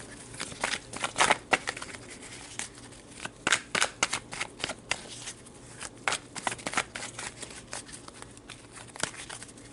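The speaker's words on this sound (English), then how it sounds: "let's pull some tarot and see what is added to these" Tarot cards are shuffled by hand in a quiet room, a long run of quick, close riffling and slapping bursts that come in irregular clusters, soft and crisp with no voices.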